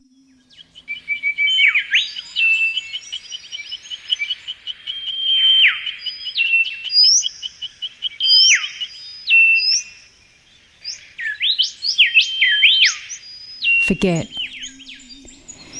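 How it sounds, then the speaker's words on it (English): Forest birds sing a continuous run of whistled chirps and trills, bright and fairly close, with one brief spoken word and a sharp knock near the end. "The birds in the forest."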